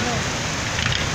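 Heavy rain falls in a flooded street, a loud, dense, hissing downpour. It fills the short moment close up and steady, with faint voices underneath.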